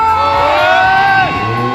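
A loud crowd at a motorcycle stunt show cheers and shouts together, with rising whoops blending into a sustained roar.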